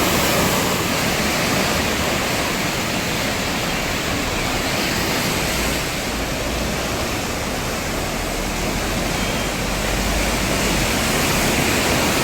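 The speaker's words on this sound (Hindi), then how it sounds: "उस पूरी चट्टान को बहाता ले जा रहा है पानी।" Flash flood water in Nepal carrying rocks and boulders roars in a steady, loud, unbroken wash of rushing noise lasting throughout, with no voices.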